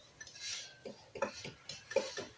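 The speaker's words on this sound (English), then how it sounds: "Give it a mix up." Spoon clinking and scraping against a bowl while flour is stirred into a thick, heavy mixture, a steady rhythm of close, light taps and scrapes with no talking.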